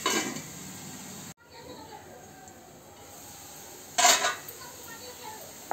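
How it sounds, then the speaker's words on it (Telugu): A metal lid is set on a cooking pot of onions frying with salt for green chicken. A faint clank comes early, a brighter metallic clatter follows a few seconds later, and a soft background hiss continues between them. "మూత పెట్టుకుందాం."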